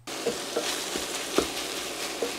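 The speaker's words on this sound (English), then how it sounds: "Cook this for 10 minutes until you hear this sizzling sound." Ground meat for Bolognese sauce sizzles in a hot pan, a steady crackling hiss with a few soft stirring clicks and scrapes.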